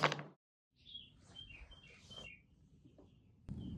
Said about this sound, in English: I was gently woken up by the sounds of birds singing.